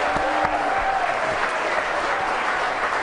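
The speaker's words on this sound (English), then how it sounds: "everybody's clapping, I guess, because I'm here tonight" Studio audience on a TV talk show applauding, a dense, steady wash of clapping that fills the whole moment with faint crowd noise and no clear voices.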